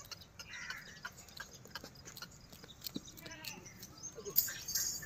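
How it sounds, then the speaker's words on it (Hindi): Goats on a goat farm bleat faintly and intermittently amid scattered clicks and shuffling, with low voices talking in the background. "ज़बरदस्त हाइट लेंथ में बकरी है माशाल्लाह"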